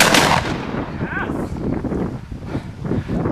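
A shotgun blast fired at a flock of ten to twelve ptarmigan lifting off during a hunt in Salangen, a sharp loud crack at the start that fades into outdoor wind noise and murmured voices.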